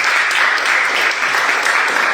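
Church congregation applauding during a sermon at GKSI Glory To Glories in Batam, a loud, dense, continuous roar of many hands clapping from start to finish.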